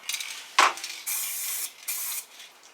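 Aerosol spray paint can hissing onto a custom weapon in short bursts, one sharp puff followed by two longer steady sprays with brief pauses between, close and clear.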